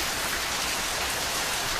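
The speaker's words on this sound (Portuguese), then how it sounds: "aqui tá dando uma chuva que vocês não tem noção" Heavy rain pours down steadily and densely, a close, continuous hiss of drops striking surfaces with no voices.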